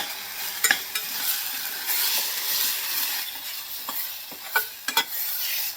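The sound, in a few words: stirring kasuri methi into sizzling chili mixture in pan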